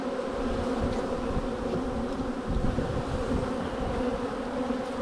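Dense, continuous droning of many honey bees inside an open hive preparing to swarm, a steady close-up hum with no voices.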